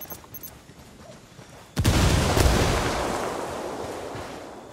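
Frag grenade detonating in Ghost Recon Wildlands: quiet ambience, then one sudden loud blast with a broad rumbling roar that slowly decays over several seconds.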